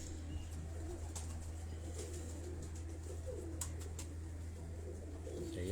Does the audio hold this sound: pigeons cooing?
yes